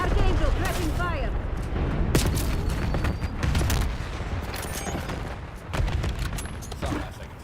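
Repeated gunfire from the Archangel killstreak's tracking fire in a Call of Duty Hardpoint match, sharp broadband bursts recurring through the scene over a steady battle din, with game voices speaking in the mix.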